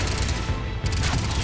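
Enemy weapon fire in Mass Effect Legendary Edition, a dense burst of loud, continuous rattling with no clear gaps between shots, filling a short moment.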